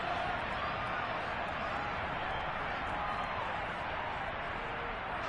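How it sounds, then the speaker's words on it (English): A football stadium crowd roars steadily during a replay, a broad, continuous wash of shouting and cheering that holds at an even level from start to finish without distinct breaks. "Plenty of shouts from this crowd as they watch the replay."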